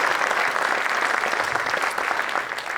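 A civic audience at a State of the City address applauds the panel with steady, full clapping that holds even throughout, with no talk.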